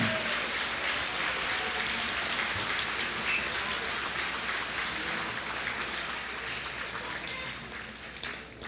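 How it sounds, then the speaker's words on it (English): An awards ceremony audience applauds honorees, dense clapping filling the room like heavy rain, steady and fairly loud before slowly thinning toward the end. "would everybody give them a round of applause"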